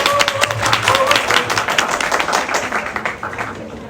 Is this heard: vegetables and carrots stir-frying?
no